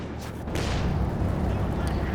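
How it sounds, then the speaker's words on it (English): Stuka dive bomber barrage in Company of Heroes 2, a dense, continuous rumble of explosions and booming artillery that swells after a moment and stays loud throughout, with voices faintly present underneath. "Stuka barrage coming in."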